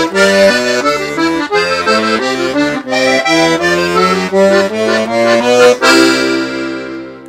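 Piano accordion playing a 12-bar blues shuffle with a left-hand bass line and a right-hand Zydeco riff, loud reedy chords pulsing in a steady bouncing rhythm, ending on a held chord.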